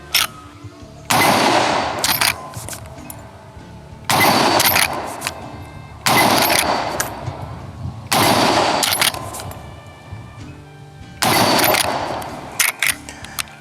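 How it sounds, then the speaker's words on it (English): A Henry Steel 30-30 lever-action rifle fired downrange outdoors, with six loud sharp shots spaced roughly two seconds apart, each followed by lingering echo and the clack of the lever cycling between rounds. "Let's just have some fun and shoot some rounds down range with this thing and see how she cycles"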